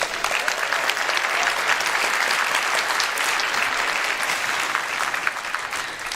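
Steady applause from a conference keynote audience, a dense continuous wash of clapping hands that holds at full strength for about six seconds with no talk over it.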